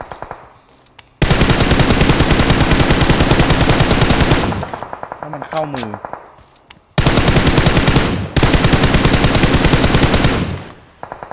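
Rapid automatic gunfire from practice shooting in the mobile game PUBG Mobile, two long loud bursts separated by a pause with brief tonal game sounds, and a few quiet seconds before the first burst.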